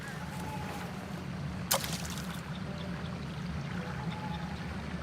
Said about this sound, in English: Sitting and listening to the river's flow.